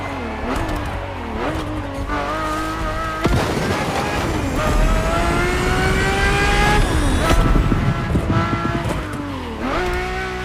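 A race car engine in The Crew Motorfest video game roars continuously, its pitch climbing and dropping through repeated gear shifts, loud and close.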